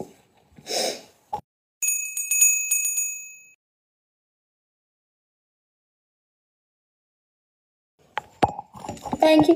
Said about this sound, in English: Thank you for the bells.